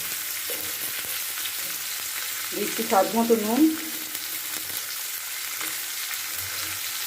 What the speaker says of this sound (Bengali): তেলের মধ্যে আমি এবার পেঁয়াজ আর কাঁচা লঙ্কাটাকে ভালো করে দিয়ে দিচ্ছি।